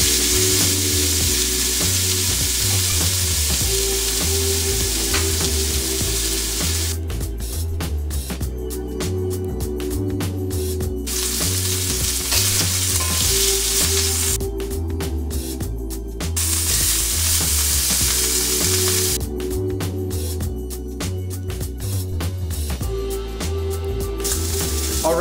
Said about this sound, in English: You should hear a nice sizzle.